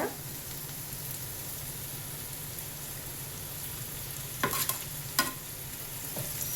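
Boiled potato pieces fry in a pan with a steady low hiss, stirred now and then with a few sharp scraping clicks near the end, close and fairly quiet.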